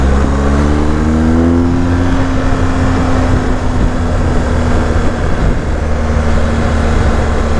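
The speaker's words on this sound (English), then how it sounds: "the pickup on this bike's unreal actually. I'm in road mode, but it's third gear, it just pulls." A BMW GS1250 TE Rallye motorcycle pulls hard in third gear in road mode, its loud, close engine drone rising steadily in pitch and then holding a strong, even tone.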